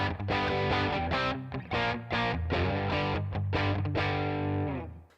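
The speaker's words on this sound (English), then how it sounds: "I like to use the tube screamer and make it green, have the drive all the way down, tone in the middle, level all the way up." An electric guitar plays through a Tube Screamer overdrive model on a Headrush MX5 with low drive and full level, giving crunchy, sustained chords struck in a loose rhythm, close and loud, with no talk.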